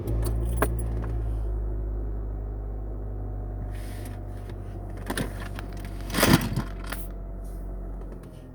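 A car engine idles with a steady low rumble throughout, nearby, while keys jangle and small objects clatter sharply over it in short bursts, loudest near the end.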